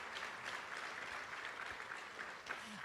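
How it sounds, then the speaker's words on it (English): Audience at a national dairy conference giving a round of applause, continuous even clapping heard from a distance and fairly quiet. "Let's give these ladies a round of applause for coming up and telling their story."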